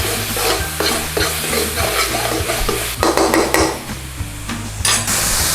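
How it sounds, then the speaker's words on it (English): A spoon stirs salt into chicken saagwala in a pan, scraping and clinking over a steady loud sizzle, with several sharper metallic knocks against the pan toward the end. "Stir it all in."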